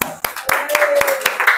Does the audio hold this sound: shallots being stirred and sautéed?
no